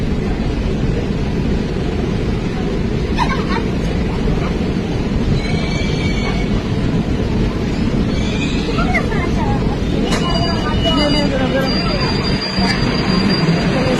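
A Kolkata metro train arriving at Behala Bazar station rumbles loudly and continuously with occasional high wheel squeals, and voices can be heard now and then over the noise.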